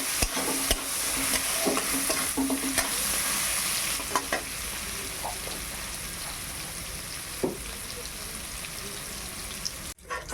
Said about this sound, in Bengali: সয়াবিনটা ভাজা হয়ে গেছে, তুলে নে।